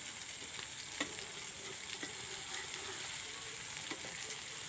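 Boneless vaazhai fish frying in a pan as it is flipped, a soft even sizzle at low level with a few light taps of the spatula.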